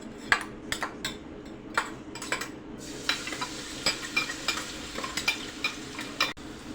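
Green chillies sautéing in ghee or oil in a pan for sabudana khichdi, a steady close sizzle with repeated sharp scrapes and clinks of a spoon stirring against the metal pan, no talking.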